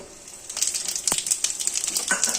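Panch phoron seeds of fennel, nigella and fenugreek crackle and sizzle in hot oil, with quick popping ticks and a steady hiss close by, and no one talking.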